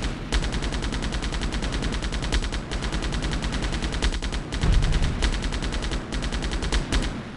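Rapid automatic gunfire from the Delta Force video game rattles in fast continuous bursts with a few brief gaps, loud and close, and no voices over it.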